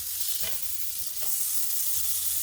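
A turkey burger fries in olive oil in a pan just after being flipped, giving a steady close hiss of sizzling with a few faint scrapes and stirs, no voices.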